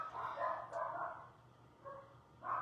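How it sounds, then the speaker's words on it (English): A wiener dog barks a few times in muffled bursts, apparently from another room, with gaps between barks and no talking over them. "You have one barking wiener dog."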